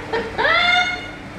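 A show bird imitates a hen clucking at a bird show in Malaysia, giving one short, loud, tonal rising call with a clear harmonic edge and a quieter sound just before it.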